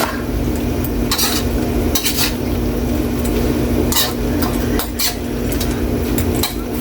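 A spoon stirs pork dinuguan simmering with vinegar and brown sugar in a pot, giving repeated scraping, clinking strokes against the metal over a steady low simmer, close and fairly loud, with no talking.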